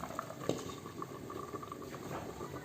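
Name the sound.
pumpkin and carrot soup simmering in covered pot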